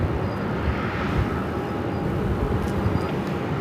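A Southwest Airlines Boeing 737 MAX 8 jet takes off at Phoenix airport bound for Spokane, a steady broad engine roar holding loud and even throughout.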